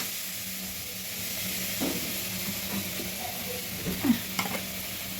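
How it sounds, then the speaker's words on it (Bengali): Water splashed into spiced masala frying in a pan, with Kashmiri chilli stirred through, giving a steady close sizzle and hiss with brief louder crackles and stirring scrapes, no talking. "মশলাটা কষানোর জন্য একটু জল দিয়ে দিচ্ছি, আর মশলাটা পুড়বেও না"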